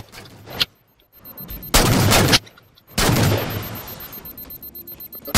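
Gunfire in the Halo 4 video game: two long, loud bursts of automatic fire with a short pause between them, followed by a quick run of rhythmic shots that fade out.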